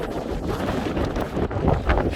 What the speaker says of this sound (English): this is windy!